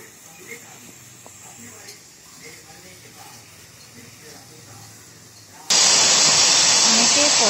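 A pressure cooker cooking kochu greens with jackfruit seeds on a gas stove lets out a sudden loud, sustained steam whistle that cuts in near the end and continues steadily after a stretch of quiet kitchen background.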